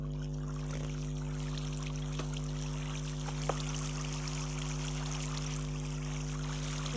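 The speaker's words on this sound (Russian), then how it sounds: "Вот тут берем сейчас водичку, вот заливаем" Water is poured in the Minecraft video game, a steady, soft trickling stream that continues over a constant low electrical hum.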